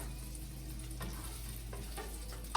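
Polish sausage and cabbage browning in a pan for halushki, giving a steady, even sizzle with a few soft stirring clicks and a small clack at the end.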